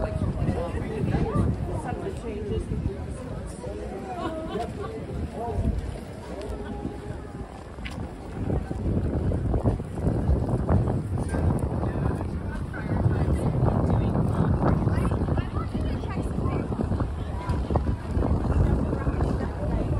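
Strong wind buffets a microphone on a Manhattan rooftop on the Upper West Side, a loud, continuous roaring rumble that surges and eases throughout, with faint city sound underneath.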